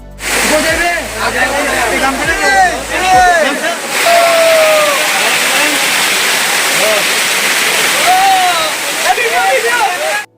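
Sangrampunji waterfall in Sylhet during the rainy season sends up a constant, loud rush of falling water, with voices talking over the roar throughout.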